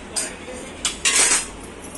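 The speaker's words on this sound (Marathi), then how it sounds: "आता हे सगळ्या भाज्या आपण मिक्स करून घेतल्यात" A spoon clinks and scrapes against a bowl of chopped vegetables, green chilli, turmeric and salt, giving a few sharp taps followed by a longer scraping stir, close and clear.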